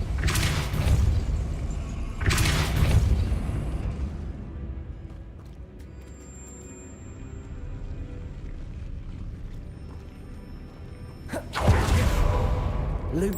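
Depulso force spell cast in Hogwarts Legacy, a few heavy whooshing booms at the start and again near the end, separated by a quieter stretch of low game ambience.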